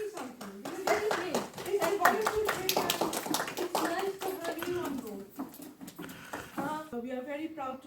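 Clapping from a small group at the end of a discussion session, irregular claps under and between speaking voices, fading out as talk continues.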